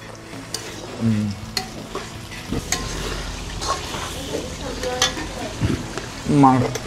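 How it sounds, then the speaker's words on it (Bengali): A ground paste of ginger, garlic, dried chili, cumin and garam masala sizzles with browned onions in a pan over an outdoor picnic stove, stirred with scraping spoon strokes and occasional clinks. "পেঁয়াজ কষানো হয়ে গেছে, বাটা মশলাটা দিয়ে দেবো।"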